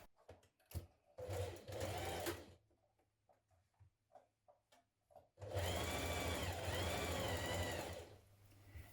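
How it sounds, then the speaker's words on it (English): A sewing machine sews a knit top seam with a stretch stitch, running loud and close. A short burst and a few quieter ticks come first, then a longer steady run of stitching, with no talk. "stitch your seam in place with a stretch stitch, then stitch over it again to reinforce"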